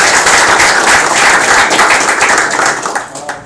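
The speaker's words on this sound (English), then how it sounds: "Clap your hands to Mario." An audience at a technology talk event claps hands loudly and densely in a sustained round of applause that tapers off toward the end.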